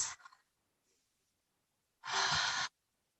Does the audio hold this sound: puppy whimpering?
no